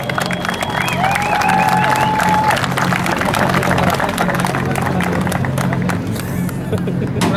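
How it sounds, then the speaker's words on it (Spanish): Crowd at a national expo tournament in Bayonne, New Jersey applauds for Rancho El Bendito, with cheering and babble under loud, continuous clapping, plus whistles and a steady background hum. "El aplauso para él."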